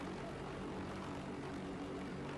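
A large helicopter hovers about twenty feet above marshy flood ground, its engine and rotor making a continuous loud, steady roar that fills the whole moment without a break.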